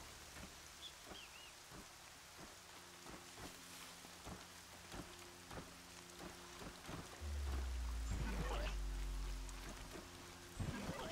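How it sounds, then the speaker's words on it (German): Steady rainfall in the video game Horizon Zero Dawn, a soft continuous patter with scattered drop clicks and a few low rumbles, moderately faint and without speech. "Dieser blöde Regen, der geht mir so auf den Geist."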